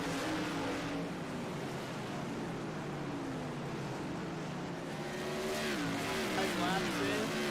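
Modified Tour race cars lapping at Southern National, a steady dense roar of multiple engines with rising and falling pitch sweeps as cars pass, continuous and fairly near throughout.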